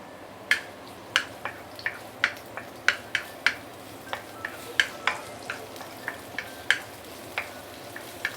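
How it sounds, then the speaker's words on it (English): Ginger and garlic sautéing in a pan, a quiet bed of sizzle broken by sharp, regular clicks and taps of a spatula on the pan, roughly one or two per second, close and alone. "you want to saute your ginger and also garlic"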